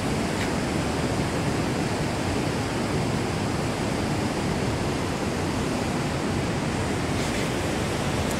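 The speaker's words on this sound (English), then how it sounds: "there's the gorge with the running water" Steady, dense rush of running water in a mountain gorge near Hope, British Columbia, a continuous broadband roar with no breaks, heard close by.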